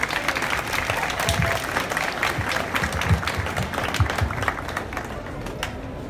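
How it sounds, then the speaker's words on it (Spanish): An audience at a Mother's Day celebration in Sahuayo breaks into applause, a sustained patter of many hands clapping with some crowd noise, fairly close and steady. "Un aplauso para ella."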